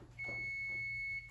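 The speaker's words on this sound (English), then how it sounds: "timer's going off." A kitchen oven timer sounds while sourdough bread bakes: one steady, piercing high-pitched beep holds for about a second over a low background hum.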